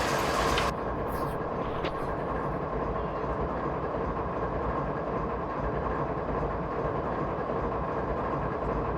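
A BNSF ES44DC locomotive train in Train Simulator 2018 rumbles past with a loud, steady, heavy engine drone and rolling rail noise, and a brief voice is heard at the start.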